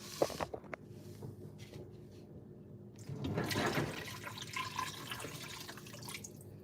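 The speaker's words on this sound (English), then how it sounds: "Let's fill it up with water." Water runs from a tap into a cooking pot in a home kitchen, starting with light drips and trickles, then swelling into a fuller rushing pour that keeps going close by, with no voices.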